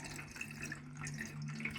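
Steady rush of water pouring into a container, a continuous gurgling flow with a low hum underneath and no voices.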